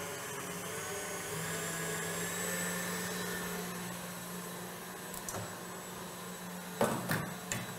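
An electric mixer whips 400 grams of cream to soft peaks, a steady whirring motor hum that holds throughout, with a few clattering knocks near the end.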